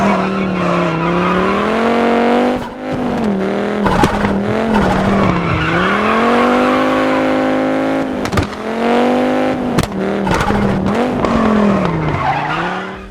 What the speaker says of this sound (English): whilst Blomqvist's Quattro in WRC 10 is a Group B